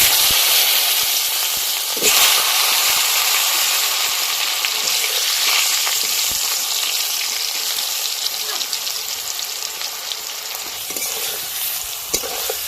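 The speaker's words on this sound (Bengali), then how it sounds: "ওই মাছ ভাজার তেলে আমগুলো ভেজে নেব" Raw green mango pieces frying in leftover fish-frying oil, a loud, dense, continuous sizzle with occasional stirring scrapes and clicks, no voices.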